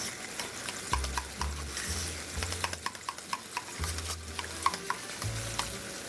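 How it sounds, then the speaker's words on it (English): A spoon stirs maple syrup into a mayonnaise mixture in a bowl for a grilled cheese recipe, making soft, repeated scraping and tapping strokes with a low rumble of kitchen background underneath, close and steady with no talking. "We're just going to stir that together"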